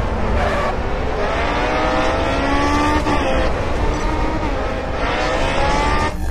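A race car engine in the video game Grid Autosport roars continuously at high revs, pitch climbing and dropping through gear changes, loud and close.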